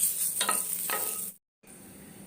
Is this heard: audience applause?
no